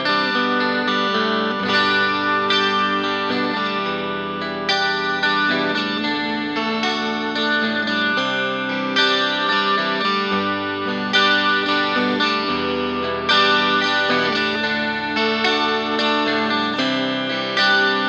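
A 12-string Telecaster played clean on the neck pickup rings out as shimmering, doubled chords and picked notes, with a chorus-like jangle that holds steady and loud throughout.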